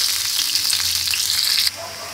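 Finely chopped green chilies, onion and curry leaves fry in a pan, a loud, dense, steady hiss close up that drops abruptly to a quieter sizzle near the end, with no voices.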